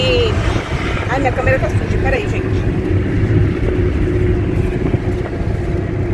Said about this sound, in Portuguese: desculpa o barulho aí do vento, porque a janela do carro tá aberta